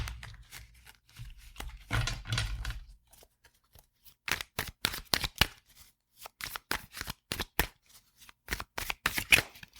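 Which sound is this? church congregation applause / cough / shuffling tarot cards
shuffling tarot cards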